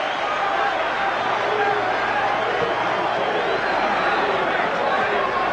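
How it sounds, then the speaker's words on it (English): Boxing arena crowd standing and applauding as the fighters come out for the last round of the 1986 Barry McGuigan vs Steve Cruz bout, a steady broad roar of clapping and cheering with a commentator talking over it. "The whole crowd standing and applauding"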